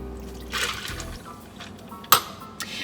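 White rum pours into a cocktail shaker full of ice for a Hemingway daiquiri, a short liquid gush followed by a sharp clink of glass or ice, heard up close with no talking.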